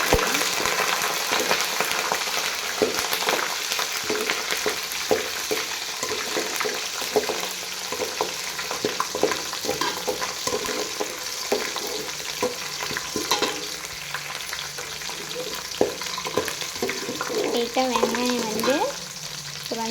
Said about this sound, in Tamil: நம்ம எடுத்து வச்சுருக்க பூண்டையும் வெங்காயத்தையும் எடுத்து நல்லா வதக்கிக்கலாம்.